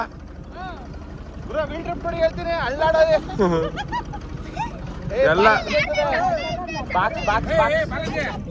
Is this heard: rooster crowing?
no